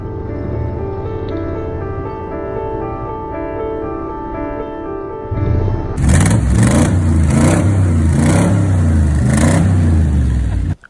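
A KTM SX-F 450 dirt bike engine idles with a steady buzzing drone, then is revved hard into a loud, close, rising roar with repeated throttle blips before cutting off abruptly.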